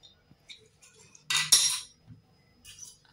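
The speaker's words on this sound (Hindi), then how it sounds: "इसका ढक्कन हम खोलेंगे।" The metal lid of a pressure cooker holding cooked mustard-greens, spinach and bathua saag comes off after the steam has been released, giving a few scattered light clinks and then a sharp metallic clatter of lid against pot, close by in a quiet kitchen.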